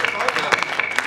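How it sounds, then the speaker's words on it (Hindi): Scattered applause from a poetry-gathering audience, brief and sharp individual claps with a murmur of voices underneath. "एक बार तालियां हो जाए भाई।"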